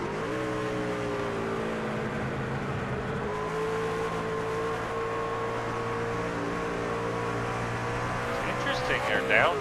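Race trucks in iRacing at Lucas Oil Indianapolis Raceway drone steadily with layered engine tones that step down in pitch as they downshift, with a voice faintly under the roar.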